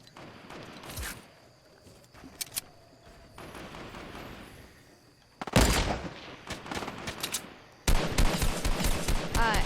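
Bursts of video game gunfire, sharp volleys and rapid automatic fire in clusters, loudest in the second half with dense repeated shots.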